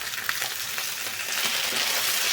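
Softened onions and chopped tomato with salt fry in a pan for tomato chutney, giving a continuous close, bright sizzle that grows slightly louder as they are stirred.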